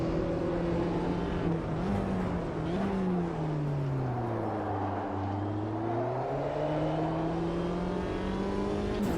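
A JCW Mini Cooper races around Sonoma in AMS2, the sim engine droning steadily and then dipping and climbing in pitch as it brakes for a chicane and accelerates out, with no talk.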